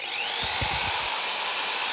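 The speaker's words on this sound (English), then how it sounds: "It's a little sanding belt on the end here." A small Makita 9mm belt file sander whirs steadily with a high, thin whine, running alone at a fairly quiet, even pitch.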